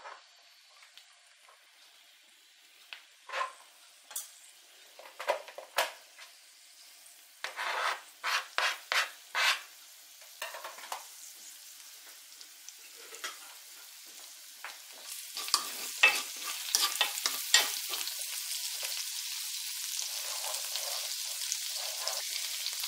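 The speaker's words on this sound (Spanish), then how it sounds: "He puesto en esta sartén una nuez pequeñita de mantequilla y un poquito de aceite. Ahora le voy a añadir el ajo picado." Minced garlic in a pan with a small knob of butter and a little oil: quiet at first with bursts of utensil scraping and stirring, then a soft sizzle builds and holds steady toward the end.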